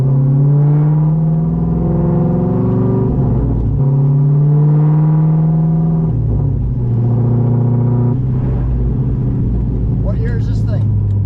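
A loud, lowered and cammed 1999 Corvette drives along on a rainy day, its deep engine drone rising and falling through gear changes close inside the cabin, with people talking over it.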